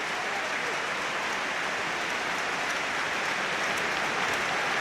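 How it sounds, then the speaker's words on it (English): Hearts football supporters applauding in a stadium crowd during a match against St Johnstone, a steady, dense wash of clapping that holds at an even level from start to finish. "applause from the Hearts supporters for a 14-year-old lad who's been very much under the weather"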